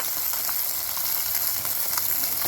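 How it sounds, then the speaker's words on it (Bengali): Parshe fish fry in hot oil with a steady, close, even sizzle that holds without pause, and no voices are heard. "আমার মাছ ভাজা হয়ে গেছে"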